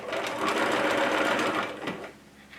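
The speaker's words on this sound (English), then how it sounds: "I'm going to lock stitch by backing up and come forward." Sewing machine running in short bursts as it lock stitches, backing up and then sewing forward on fabric, a close, steady mechanical whir that drops off near the end.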